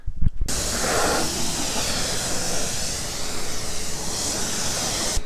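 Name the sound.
IK Pro 12 foamer pressure valve popping, filled by air compressor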